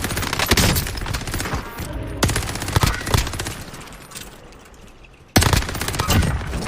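AS-44 rifle fire from the Warzone Pacific video game, loud rapid bursts of gunfire in several volleys separated by brief pauses, with no talk.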